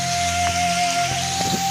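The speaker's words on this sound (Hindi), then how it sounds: "बहुत ज़्यादा तेज बारिश हो रही है" Heavy rain falls in a Pakistani village, a short burst of dense hiss with scattered drop taps over a faint steady hum.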